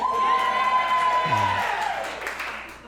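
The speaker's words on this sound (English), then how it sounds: "Now clap if you think you're ugly as shit." A comedy club audience at a stand-up show claps and cheers, a lively mix of applause, whoops and shouted voices with a sustained high yell early on, fading slightly toward the end.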